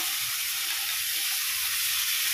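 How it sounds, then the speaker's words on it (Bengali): Chopped carrot, capsicum, tomato and green chilli, added after onion, sizzle steadily in a hot pan, a loud continuous frying hiss with no pauses and no voices. "তারপর দিয়ে দিচ্ছি গাজর কুচানো, ক্যাপসিকাম কুচানো, টমেটো, কাঁচা লঙ্কা"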